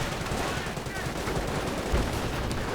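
Machine gun fire rattles steadily and densely in a WWII strategy game battle, a continuous loud clatter of automatic bursts with no pauses.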